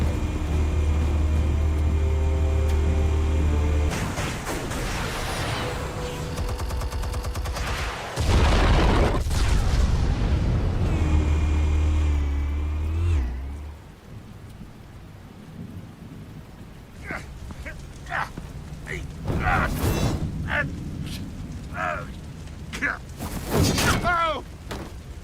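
In Telltale's Batman game, explosives go off with heavy, rumbling booms that rise in a few surges and swell again midway. Quieter crackling and sharp bursts follow, with brief voices heard near the end.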